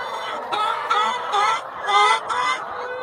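Laying hens clucking and honking inside a hen house in Yaoundé, a few overlapping bursts of calls rising and falling over about three seconds at close range, with no talk.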